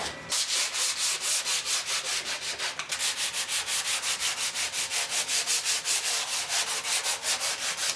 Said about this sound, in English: So I'm going to sand that back down a little bit.